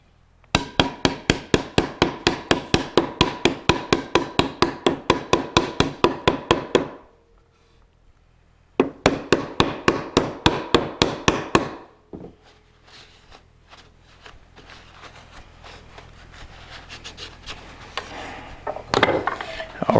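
Rapid rhythmic hammer blows knock wooden drawer parts together during glue-up: a steady run of sharp strikes, a short pause, a second burst, then quieter shuffling and handling noise.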